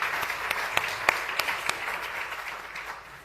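Brief, fairly quiet applause from a conference panel audience at DASICON 2020, a soft wash of scattered claps with a few sharper individual hits, fading toward the end.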